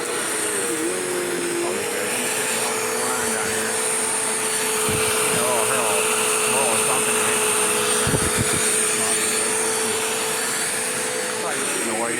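A Bissell CleanView upright vacuum cleaner runs steadily at close range, a loud continuous motor whine with a few brief bumps and clunks.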